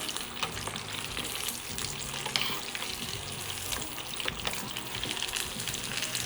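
Chicken nuggets searing in a hot pan, a dense continuous sizzle with popping crackles and occasional stirring scrapes, close and steady throughout.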